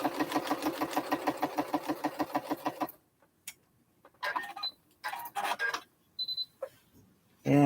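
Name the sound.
sewing machine sewing quarter-inch seam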